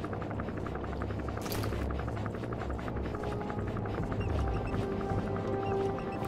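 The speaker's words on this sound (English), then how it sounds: "Where's the chopper? Directly overhead." In Metal Gear Solid 5, a helicopter hovers directly overhead, its rotor making a steady rapid chopping under a low engine hum, loud and continuous throughout.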